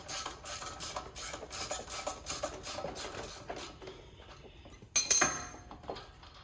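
Metallic clicking and ratcheting from a wrench backing a nut off a sway bar link on a lifted 2020 Jeep Wrangler Rubicon, a fast run of clicks followed by quieter scraping and one sharp clank near the end.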